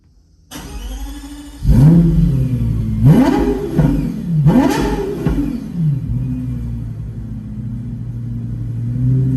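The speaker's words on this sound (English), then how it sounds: "let's do a cold start with the LFA" A Lexus LFA engine cranks and fires up from a cold start, then revs sharply three times in quick succession before easing into a steady, loud idle.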